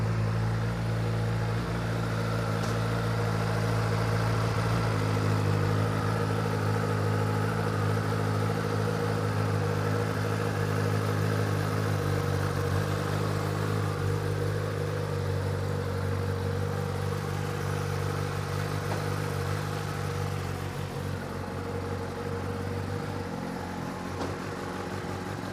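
A 2021 Kawasaki ZX-10R engine idles steadily for the whole stretch, a constant low rumble with an even, unchanging tone and no revving.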